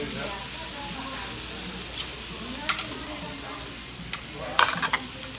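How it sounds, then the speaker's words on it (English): Spicy chicken sizzles on a Korean BBQ grill in a Las Vegas restaurant, a steady frying hiss with a few sharper pops and crackles, fairly close and continuous without talk. "The spicy chicken. We're cooking it right now, you guys."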